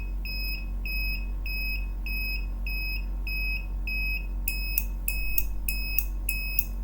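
A buzzer on a relay proximity sensor project beeps in short regular high-pitched pulses, then speeds into faster, louder beeps as an object comes closer, over a low steady electrical hum.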